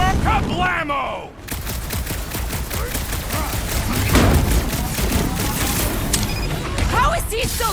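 Rapid gunfire and explosive blasts from the Guardians of the Galaxy video game crackle in a loud, dense barrage, with clattering bursts and booms continuing throughout and a voice briefly heard at the start.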